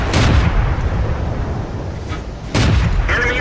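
Tank cannon shots in World of Tanks: two loud booming blasts, one at the start and another about two seconds later, each followed by a rumbling decay.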